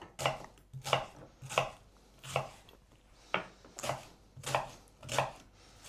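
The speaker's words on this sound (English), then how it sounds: "roughly chop the onion and prepare it to go in the pan" An onion is roughly chopped with a knife on a board for chilli con carne, giving about nine crisp, close knocks in an uneven steady rhythm, alone with no talk.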